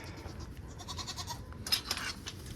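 Goats bleating inside a barn on a Texas farm as bad weather approaches, several overlapping bleats at moderate distance over steady background noise.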